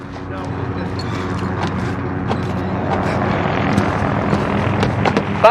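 A video game helicopter drones with a steady rotor thrum and mechanical whine, holding loud and constant throughout.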